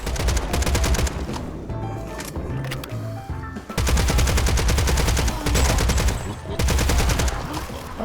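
Rapid bursts of automatic gunfire from an arcade first-person shooter, loud and close, in dense rattling volleys with short pauses between them, layered over game music.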